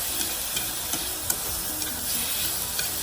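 Noodles stir-fried with mushroom seasoning for Vietnamese crispy combination noodles, a continuous close sizzle with small rhythmic scrapes and clinks of stirring every half second or so, no talking.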